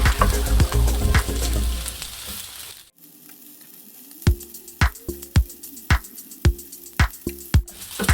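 Greens and chowmein noodles tossed and stir-fried in a hot pan, first a dense steady sizzle, then after a brief pause a sparser run of sharp scrapes and clacks from stirring over a quieter fry.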